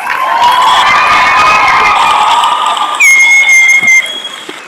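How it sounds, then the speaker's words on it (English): A crowd at the Northwest Indian College 2024 commencement cheers loudly for the graduating class, with sustained shouts and whoops and a few high, piercing whistle-like calls near the end. "One more time, round of applause."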